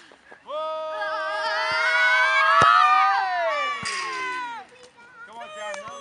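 Young children in an under-10s football crossbar challenge cheer together in a sustained rising shout that swells near the middle, then fades back to scattered voices.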